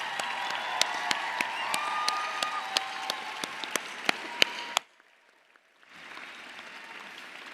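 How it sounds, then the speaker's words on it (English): Graduation ceremony audience in a large hall applauding friends and family, a broad wash of clapping with sharp individual claps standing out, which cuts off abruptly into near silence before faint room noise returns. "Let's give them a round of applause."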